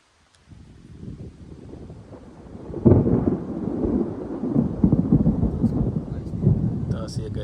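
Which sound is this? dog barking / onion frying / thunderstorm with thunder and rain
thunderstorm with thunder and rain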